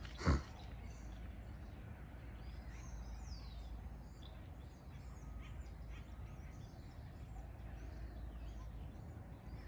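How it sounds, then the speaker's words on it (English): Birds call outdoors in several faint, scattered chirps and tweets over a steady low background rumble, with one sharp knock near the start. "I hear some birds."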